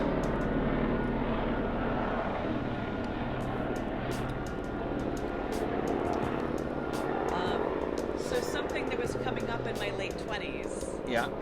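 A helicopter passes overhead in Los Angeles, its steady droning rotor and engine filling the whole stretch at close range, with people talking underneath.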